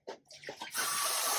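Tap water runs steadily into a sink during a catheter-care skills demonstration, a broad hiss that starts after a few brief bumps and continues strongly to the end.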